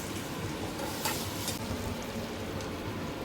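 Boiled eggs stirred into hot gravy in a pan, with a soft steady sizzle and brief scraping strokes of the spoon in the middle, close and fairly quiet.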